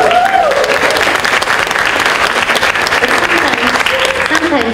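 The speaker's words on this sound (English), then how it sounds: "it's very nice of you to give me applause" An audience at a Nordic women in technology and innovation event applauds loudly and steadily throughout, a dense wash of clapping with faint crowd voices mixed in.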